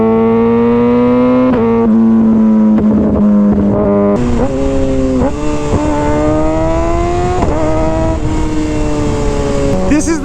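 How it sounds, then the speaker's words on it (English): A Kawasaki ZX-6R motorcycle with an M4 exhaust system revs loudly up close, its engine tone rising and falling over a steady idle, with a person talking alongside. "The system I have on it, the M4, is by far one of the best exhaust systems I've ever seen for these things."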